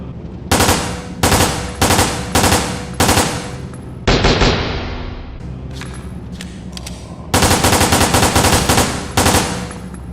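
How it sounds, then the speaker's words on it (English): Semi-automatic handgun in Resident Evil: Dead Aim firing three-round bursts, loud sharp cracks in tight groups repeated several times with brief pauses between bursts, ending in a longer rapid string. "This handgun can fire bursts of 3 rounds at one time"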